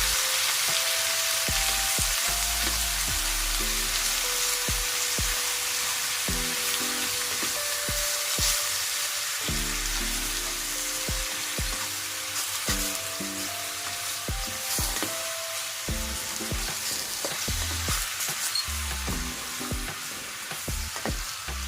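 Squid sizzles and fries in a hot pan with pepper and bay leaf for an adobo, with a steady loud crackle and repeated stirring scrapes and clinks throughout, no voices.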